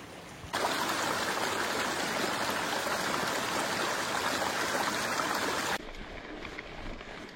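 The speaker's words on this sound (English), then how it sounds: "Still got some water flowing." A mountain stream on the Nevada side of Heavenly rushes in a steady, broad wash of flowing water, loud and close, then cuts abruptly to a quieter background near the end.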